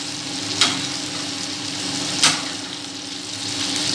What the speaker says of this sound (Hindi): हल्की आंच पे हम इनको फ्राई करेंगे और थोड़ी थोड़ी देर के बाद हम इनकी साइड भी पलटते रहेंगे